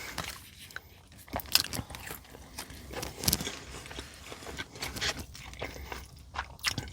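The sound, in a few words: biting and chewing a Del Taco value taco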